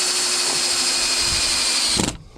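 A power drill driving long screws into lumber, whining at a steady high pitch close by for about two seconds before cutting off abruptly.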